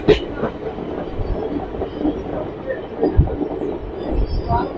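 Passenger train on the Rayakottai to Bangalore line rolling along the rails, a continuous interior rumble with periodic low wheel thumps and some clickety-clack, a faint voice now and then.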